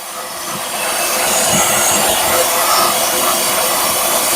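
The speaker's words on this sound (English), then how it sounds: "I'm going to vacuum it out with this special vacuum. It's a pneumatic vacuum." A pneumatic vacuum sucks debris out of a tire puncture during a repair: a loud, steady airy hiss that swells slightly after the first second and then holds constant.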